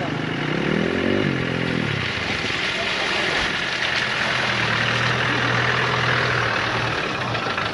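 A 4x4 engine idling on a dirt trail, a low steady rumble running throughout with a rising tonal whine in the first two seconds, heard close and fairly loud.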